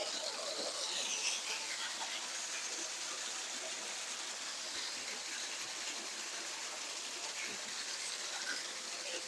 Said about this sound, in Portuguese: com a cascata ligada aqui no deck